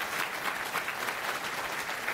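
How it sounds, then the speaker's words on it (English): A conference audience at FOSDEM 2024 applauds a speaker before a Go integration testing talk: sustained, even crowd clapping filling the room without a break. "Round of applause for Josh."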